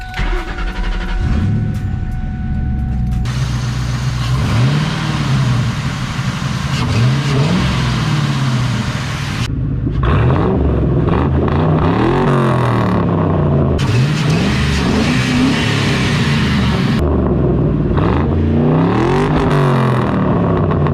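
A 2001 Ford Mustang engine fitted with a fresh cold air intake fires up and runs loudly up close, with repeated revs rising and falling over a steady idle rumble.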